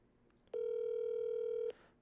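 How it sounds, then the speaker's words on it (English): A single long steady ringback tone, about one second, sounding clearly as an outgoing phone call rings through to the other end, with a faint click before and after and no talking. "All right, I'm calling him."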